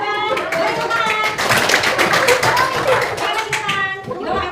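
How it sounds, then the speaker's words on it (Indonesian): Children in a classroom clap together as a group, a dense, fairly loud burst of handclaps with a few voices of kids and a teacher audible underneath. "Beri tepuk tangan."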